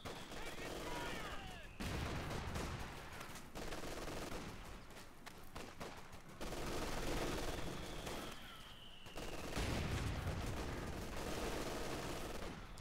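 Mortar blasts and heavy machine gun bursts from a Company of Heroes 2 battle roll in repeated loud clusters of rapid reports with short gaps between them, while a voice talks over the gunfire.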